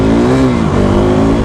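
A KTM RC390 motorcycle engine revs loudly and steadily close by, its pitch dipping slightly and then rising again within a continuous roar.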